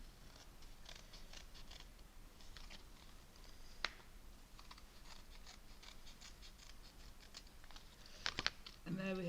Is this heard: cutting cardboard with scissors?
yes